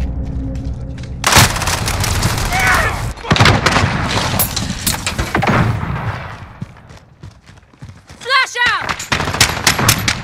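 Rapid automatic gunfire and sharp shots in Call of Duty: Modern Warfare multiplayer on PS5, loud bursts layered with game effects and brief electronic chirps, some shots near and others more distant.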